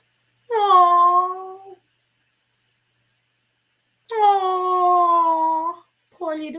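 A cat yowling during a meltdown, drawn-out wailing cries with a howling, almost dog-like tone, three separate calls with silent gaps between, close and fairly loud.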